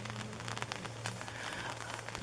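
Light rain patters on a tent while camping on a backcountry trail, a steady soft hiss of drops with small crackles, faint and easing off, with no talk.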